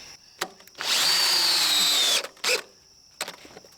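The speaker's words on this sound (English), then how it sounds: "I try to at least angle a few screws up into the floor" A power drill drives screws into a mobile home floor during rot repair, one long steady whirring burst lasting about a second and a half, close and loud, framed by short clicks and handling knocks.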